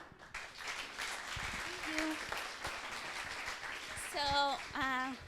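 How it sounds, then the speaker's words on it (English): Applause from the audience at a space-industry live-streamed opening ceremony, steady broadband clapping filling the room for several seconds while voices and some tonal sounds rise over it near the end. "So please, round of applause."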